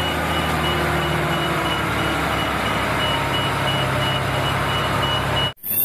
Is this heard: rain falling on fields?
no